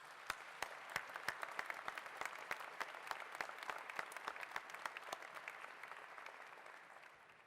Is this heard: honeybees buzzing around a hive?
no